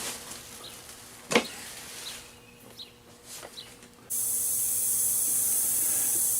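An ultrasonic cleaner holding mounting bolts from a 2006 Husqvarna YTH2242T lawn tractor switches on partway through after a few faint clicks, then gives off a steady, thin high-pitched hiss.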